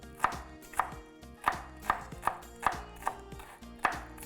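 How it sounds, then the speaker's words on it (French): Onion is finely chopped with a knife on a board: about nine crisp, evenly spaced chops, close and clear, with no voices. "Puis hacher vraiment finement."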